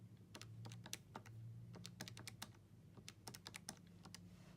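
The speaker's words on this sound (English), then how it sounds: "So I'm just going to sum them up on my calculator." Fingers tap out a quick, irregular run of crisp plastic button presses on a calculator while summing a column of numbers, close and fairly quiet over a low steady hum, with no talking.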